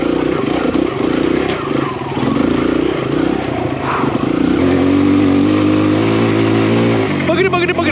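A Kawasaki KLX140RF dirt bike engine runs steadily and loudly on an enduro trail ride, its drone shifting pitch as the throttle changes, with a rider talking over it near the end.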